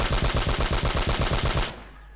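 Machine gun fire aimed at a car in Uncharted: Drake's Fortune, a loud rapid burst of about a dozen evenly spaced shots that stops abruptly and leaves a low hum.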